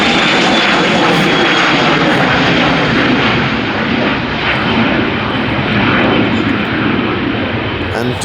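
An airliner taking off at Edinburgh Airport and climbing away with gear up, its jet engines a loud, steady roar that holds close and unbroken throughout; voices talk faintly beneath it.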